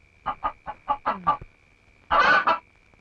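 A chicken squawks close by, with a run of six quick clucks followed by a louder, longer squawk, in an otherwise quiet setting.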